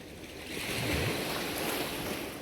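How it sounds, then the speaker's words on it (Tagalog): Sea waves wash onto a beach while someone gathers shells, a soft rising swell of surf with wind buffeting the microphone, fairly close and without talk. "Ayan yung dagat"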